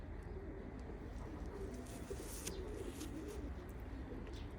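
Pigeons in a loft in Oman coo softly and faintly over a steady low background murmur, with a few soft chirps mixed in.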